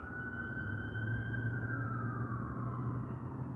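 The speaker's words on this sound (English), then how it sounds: "Sirens going off." A siren wails steadily with a slowly falling pitch, heard from a distance over constant traffic rumble.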